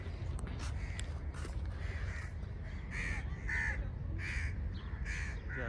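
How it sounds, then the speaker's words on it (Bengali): Crows cawing repeatedly on a sunny seafront during morning fishing, loud rhythmic caws rising every second or so over a steady background hiss of wind and surf. "আর এখানে শুধু অনেক কাক ডেকেই যাচ্ছে।"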